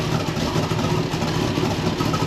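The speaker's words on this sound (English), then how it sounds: "the side exhaust on it really gives it a unique sound" A car engine with side-exit exhaust idles with a loud, rough, throbbing rumble, steady and close up, with no speech.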